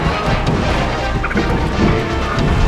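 Super Smash Bros. up smash attacks land in quick succession as sharp crashing hits over dense game noise and crowd clamor.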